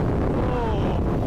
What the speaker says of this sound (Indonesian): Tuh, anginnya kencang banget, tapi masih kuat ya.